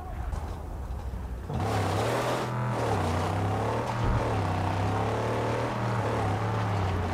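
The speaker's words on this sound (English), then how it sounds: "Rev it up and go, Saint." Buggy engine in the Mad Max video game starts and revs into a loud, steady droning hum with slight pitch wavers, running continuously up close after a short quieter lead-in.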